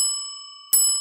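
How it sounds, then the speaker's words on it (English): A single bright quiz-show bell ding rings out sharply, with a sustained ringing tone carrying through from a previous strike and no one talking. "get 2 bells for that one"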